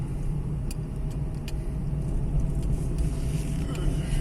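Heavy car traffic streams past near a beach, a dense, continuous low roar of engines and tyres with faint ticks on top and a voice talking briefly.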